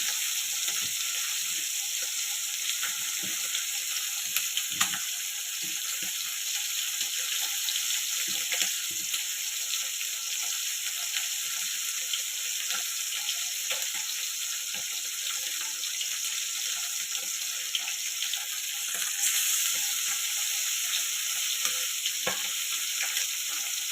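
Fish lightly frying in a pan, a steady close hiss of sizzling oil with small crackles and occasional clinks throughout.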